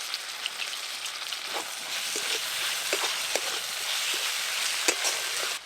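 Chopped tomatoes fry in a pan over garlic, ginger and onion, a steady dense sizzle with scattered crackles and pops throughout, fairly close and unbroken, with no talking.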